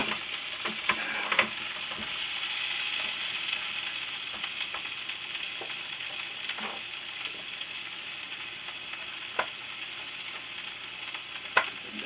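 Philly cheesesteak meat sizzles steadily in a hot pan while a utensil stirs it, the continuous hiss punctuated by occasional scrapes and clicks, close and with no talking.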